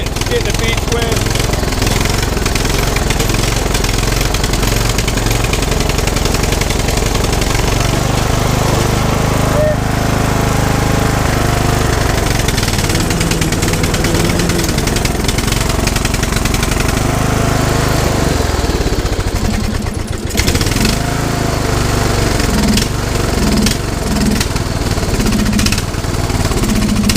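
A lawn mower engine runs loud and steady throughout, with a rough, rattling drone close by and a brief dip midway.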